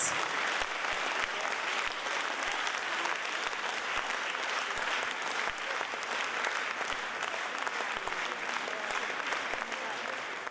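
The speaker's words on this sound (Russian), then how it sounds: "Ваши аплодисменты" A concert audience at an international festival of Turkic arts applauds in a steady, even wash of clapping that holds at a moderate level for about ten seconds with no talk over it.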